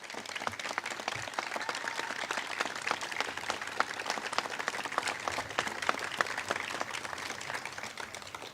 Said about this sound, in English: join me in giving a huge round of applause to all of our park staff